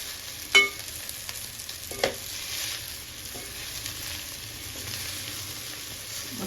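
Noodles being stir-fried in a pan, a continuous low sizzle with a couple of sharp utensil taps near the start and softer scraping stirs after.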